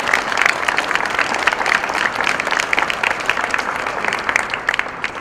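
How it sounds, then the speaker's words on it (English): Warm, sustained applause from an audience at a Maafa commemoration event after a Baptist church choir performance, many hands clapping steadily and fairly loud for several seconds. "Another round of applause, please, for Shiloh Baptist Choir."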